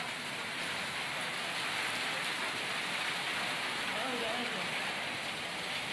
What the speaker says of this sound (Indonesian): Hujan disertai angin kencang terjadi di Sukabumi, Jawa Barat.